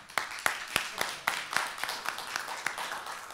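Faint, scattered clapping from a small audience at an opening remarks event, roughly a dozen distinct claps in an uneven rhythm, soft and somewhat distant.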